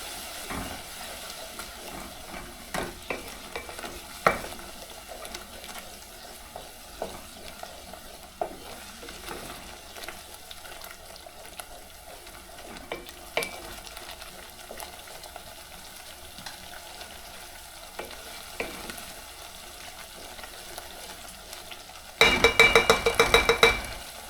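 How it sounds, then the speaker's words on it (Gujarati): Cumin and turmeric fry in a pan while being stirred, giving a low continuous sizzle with scattered scraping clicks from the utensil. A louder, denser burst of sizzling and clatter comes at the very end. "મિક્સ કરી લઈએ."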